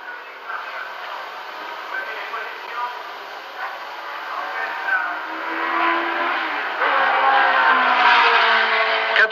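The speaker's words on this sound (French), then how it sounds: "Mais tout va bien pour Marco et Van Lennep, la Porsche tourne rond" Race cars at the 1971 Le Mans 24 Hours, including a Porsche 917, droning steadily with a rising engine note toward the end, heard alongside continuous commentary.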